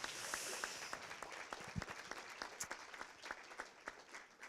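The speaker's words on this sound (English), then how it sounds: "We will applaud them as they leave the stage" An audience claps steadily as an expert advisory group leaves the stage at a citizens' assembly. The dense, sustained applause thins slightly toward the end.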